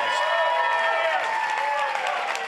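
A crowd of supporters applauds and cheers loudly and continuously at a political gathering for Hunter Hill, a dense wash of clapping with no pauses.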